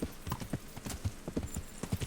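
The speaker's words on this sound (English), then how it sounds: "That's the all-terrain horse we know you can be, Huddle." Horse hooves clip-clopping at a steady walking rhythm on rough ground in the medieval game Kingdom Come: Deliverance, close and distinct, with a faint whinny in the mix and no talking.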